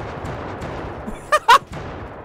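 Two quick explosive bursts from a quad launcher rifle in the Ravenfield shooter game, loud and close together, rising over a low rumble of ambient battle noise.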